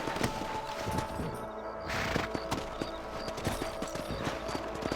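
Horse hooves clip-clop in a steady walking rhythm in Red Dead, close and clear, with a brief whinny-like sound midway.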